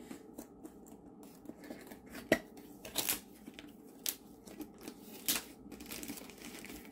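Diamond Art Club diamond painting kit being opened, with soft crinkling packaging and scattered sharp rustles and snaps, close by and fairly quiet, no talking.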